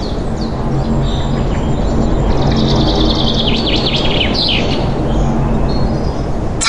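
A sparrow chirps in quick repeated bright calls over a dense, steady wash of background noise, with the tweets clustering in the middle of the stretch.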